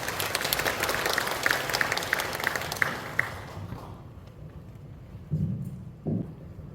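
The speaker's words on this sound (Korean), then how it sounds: "여러분 큰 박수 부탁드리겠습니다" Applause from the audience at a Korean reconstruction briefing rises at once, holds steady and fairly loud for about three seconds, then fades out, leaving a hushed room with a few faint bumps.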